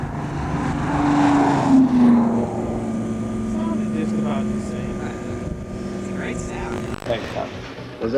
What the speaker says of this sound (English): the Defender's exhaust sound in the series is completely real